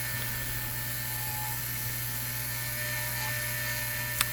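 Wood lathe spinning a flame maple bowl while its outside is shaped, a steady high whine with constant tonal hum and a faint hiss throughout, a brief sharp tick near the end.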